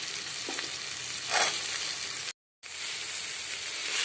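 Vegetables fry together in a pan with a continuous close sizzle and a few stirring bursts, briefly cut to silence once before the hiss resumes.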